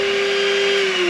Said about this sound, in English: let's go ahead and turn off our spindle.